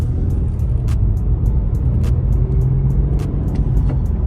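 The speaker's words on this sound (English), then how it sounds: "I'm gonna let you guys hear the stock roar." A 2015 Infiniti Q50S with its stock exhaust idles nearby in a low, steady rumble. Brief sharp ticks and clicks cut in now and then, and no one speaks.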